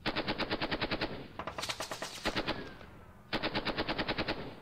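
Machine guns fire in the Panzer Battles North Africa 1941 wargame, rapid bursts of evenly spaced loud shots, a pause with scattered reports and a faint whistle, then another sustained burst.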